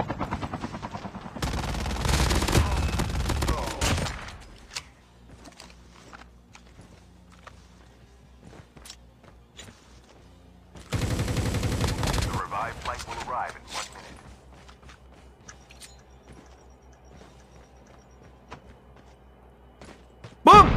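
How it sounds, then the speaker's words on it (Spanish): Gunfire in the mobile shooter Call of Duty Mobile, heard as two loud, dense bursts of rapid shots separated by quieter stretches of light footsteps and small clicks, with a sharp crack right at the end. "Acá están snipeando."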